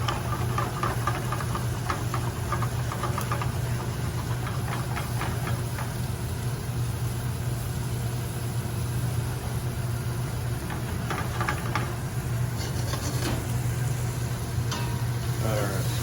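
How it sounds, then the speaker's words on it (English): Scallops warming in a pan with lemon wine sauce, a steady low sizzle and bubbling with occasional scraping and clinks, continuous and moderately quiet. "put your scallops back into the pan after you've made your sauce, so that we can warm the scallops back up"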